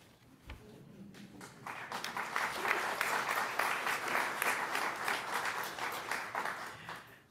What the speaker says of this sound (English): you don't have to clap each time